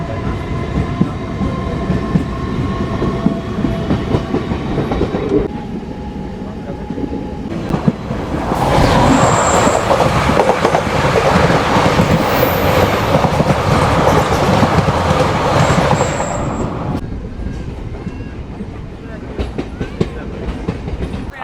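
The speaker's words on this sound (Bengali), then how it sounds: "এই যে ট্রেন ছেড়ে দিল আমাদের সারগাছি রেলওয়ে স্টেশন থেকে।" A local train pulls out of Sargachi railway station in West Bengal, its loud clickety-clack and rumble swelling mid-way before easing off, with brief high squeals from the wheels.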